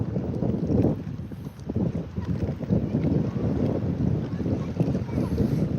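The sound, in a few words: wind blowing outdoors while fishing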